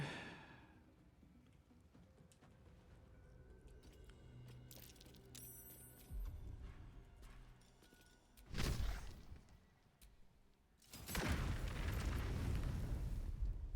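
A Smoke Powder Slug explosion in Baldur's Gate III, quiet game ambience giving way to two loud booming blasts, the second broader and sustained, with a whooshing burst between them.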